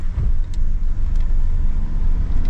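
A Mercedes-AMG 4Matic car accelerates, its engine giving a loud, low rumble that pulses in strong surges from inside the cabin, with no talking.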